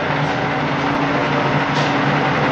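A horizontal milling machine runs at 510 RPM, giving a steady, dense mechanical drone with a low hum, constant and close throughout with no talk.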